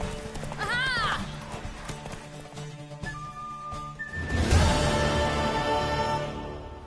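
A mare's hooves clatter along at a gallop in a horse race, then a whinny rises. Game music and effects from The Witcher 3 play throughout, and a voice is briefly heard.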